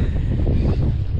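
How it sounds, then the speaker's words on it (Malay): Strong wind roars across the microphone on a fishing boat out at sea during a light jigging trip, a loud, steady low buffeting that fills the clip with no voices. "Angin kuat geng. Angin kuat, kita masuk teluk sikit."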